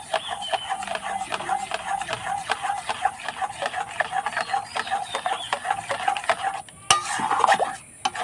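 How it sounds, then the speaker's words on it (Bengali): Mango being stirred into a pudding mixture, a steady rhythmic scraping of a spoon against a pot, close and continuous, with a brief louder clatter near the end. "তো আমটা দেওয়ার পর খুব ভালো করে আমি এভাবে মিশিয়ে নেব।"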